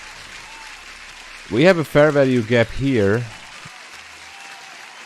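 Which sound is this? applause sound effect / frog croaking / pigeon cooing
applause sound effect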